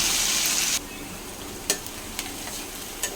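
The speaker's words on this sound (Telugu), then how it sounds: "ఇందులో ఆనియన్స్ వేసుకుని ఆనియన్స్ కూడా గోల్డెన్ కలర్" Onions frying in a hot pan for tomato bath give a bright, loud sizzle that suddenly drops to a quieter hiss, followed by a few scattered taps of stirring, close up with no speech.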